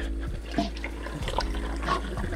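Water runs over black-and-white film in a processing tray, a steady low splashing and rinsing close up with faint sloshes and small knocks layered over it, and no voices.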